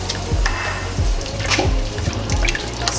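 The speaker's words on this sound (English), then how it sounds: "I'm gonna add our bouillon and water" Bouillon and water poured into a pot of frying rice with chiles make a steady, close wet splashing with a sizzling hiss and a few soft dripping plops.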